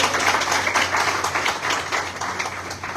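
A crowd at a network marketing business seminar claps in a dense, steady burst of applause that fills the moment, with no voices over it.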